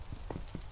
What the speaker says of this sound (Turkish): Aa, yağmur başladı.